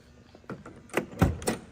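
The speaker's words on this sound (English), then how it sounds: "Door closes really nice." A classic Chevrolet Impala door is handled and shut, a few soft clicks leading to two or three solid, close thunks of the latch closing, with no voices.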